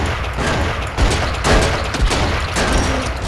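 Rapid gunfire in the side-scrolling game Cortex Command, a burst of loud close shots with several sharper bangs punctuating a continuous crackling barrage.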